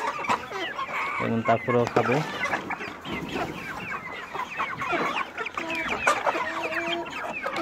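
Tiger chickens cluck and call in a lively flock while eating fermented corn feed laid over older feed, with repeated close clucks and someone talking over them.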